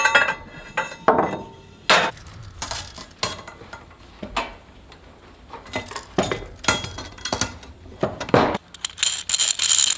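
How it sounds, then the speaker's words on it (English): Metal scraps and cut-offs clink and rattle in a small bucket, giving sharp, scattered metallic clanks and jangles at irregular intervals, close up and without speech. "I do have a small bucket of metal things, cut-offs, scraps."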